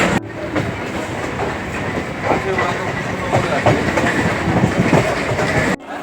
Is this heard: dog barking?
no